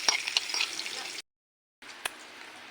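Onions sizzle in oil left over from frying chicken, cooking adobo; a close, bright frying hiss with small pops, broken by a brief silent gap before the sizzling resumes.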